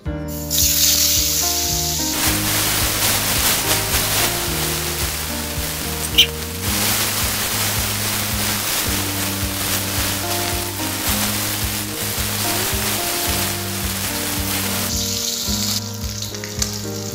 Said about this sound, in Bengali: এরপর আমি মাছগুলোকে নুন হলুদ দিয়ে ভেজে তুলে নেব।